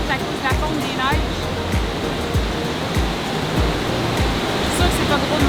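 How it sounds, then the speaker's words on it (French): A river swollen by snowmelt rushes hard, making a loud, dense, unbroken roar of water close by, with low thumps running under it throughout. "Je pense que la rivière est très forte à cause de la fonte des neiges."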